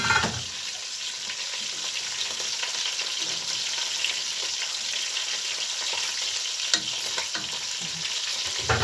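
Chicken pieces frying in a pan for chicken kabsa, giving a steady, close, even sizzle with occasional small pops and no talking.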